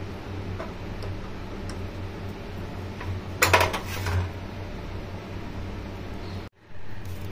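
Pliers tighten a fitting on a gas oven during a home repair, giving a brief cluster of metallic clinks and ticks midway through over a steady low hum in a quiet room.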